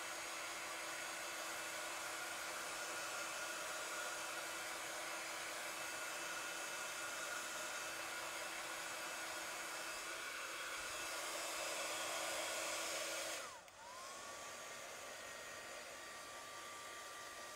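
Hair dryer blowing on wet paint, a continuous close whooshing hum that briefly cuts and shifts tone near the end before carrying on steadily, with no speech.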